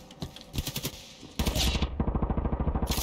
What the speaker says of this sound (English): No, that is the marksman rifle.